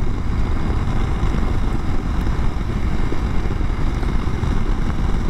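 A 2021 Honda CRF300L Rally ABS motorcycle rides along a road, its engine a steady, broadband drone mixed with wind rush that stays loud and even throughout.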